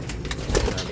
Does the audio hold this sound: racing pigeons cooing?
yes